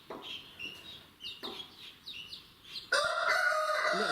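A small brooding hen sitting on a clutch of chicken and guinea eggs gives a series of short clucking calls, then a louder, sustained cackle that fills the final second.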